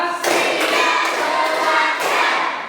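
A classroom group clapping in unison during a counted clapping routine: a loud burst of many hands that begins sharply, holds for about two seconds, then a fresh accented clap before fading.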